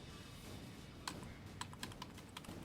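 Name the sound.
typing on a computer keyboard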